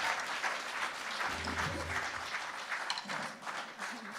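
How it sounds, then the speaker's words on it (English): An audience at The Bedford applauds a live band, dense and steady clapping filling the room for about four seconds, with faint low tones briefly underneath. "give them a great round of applause"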